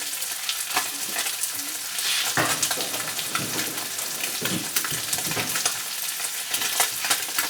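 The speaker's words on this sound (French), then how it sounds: "Je vais ensuite prendre un ustensile pour bien mélanger le saumon." Salmon frying in a pan and being stirred with a utensil for a ravioli and salmon gratin: a close, busy sizzle with repeated scraping and clattering strokes of the utensil against the pan.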